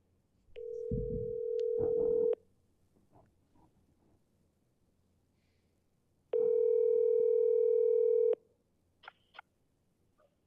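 Ringback tones on an outgoing phone call: two long, steady electronic tones separated by a few seconds of near silence, with faint clicks and small noises in between.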